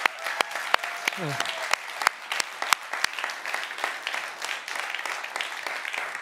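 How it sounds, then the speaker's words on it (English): A church congregation at a Sunday celebration service breaks into sustained applause, sharp claps ringing out over a dense, steady patter from the crowd, with some voices mixed in throughout. "Can we just give her another round of applause?"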